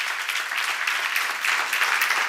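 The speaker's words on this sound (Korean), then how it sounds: "박수" Steady applause from a church congregation during a sermon on 1 John chapter 2, dense and continuous clapping filling the room from start to end with no voices over it.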